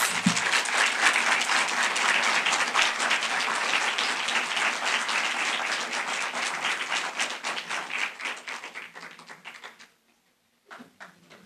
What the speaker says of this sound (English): One more round of applause for all of our contestants.